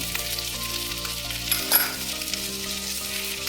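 Tomato, garlic and ginger sizzle steadily in a hot pan of oil while a chole masala gravy cooks, with a constant close frying hiss and a brief louder spatter as ingredients are stirred.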